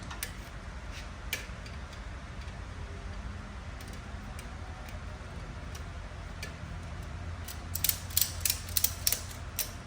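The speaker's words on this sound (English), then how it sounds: "So let me move the ratchet strap." A ratchet strap being cranked on an engine hoist during a long-block fitment check, giving a steady mechanical grinding with irregular clicks that grow into sharper, louder ratcheting near the end, without speech.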